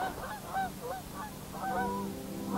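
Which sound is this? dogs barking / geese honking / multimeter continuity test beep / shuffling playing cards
geese honking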